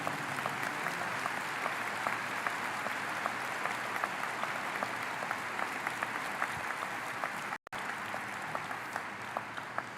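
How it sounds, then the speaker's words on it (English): Steady applause from a large congregation at a church conference fills the whole stretch, dense and continuous with a brief dropout near the end. "that's the reason why you applaud him"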